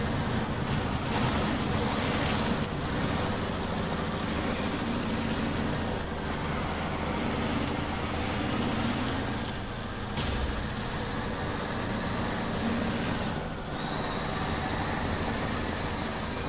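A logging truck in SnowRunner drives steadily with a continuous low engine drone and rumbling wash of noise, holding at a constant loud level throughout.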